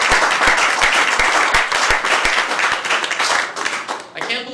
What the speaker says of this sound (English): I hope you join me in a round of applause.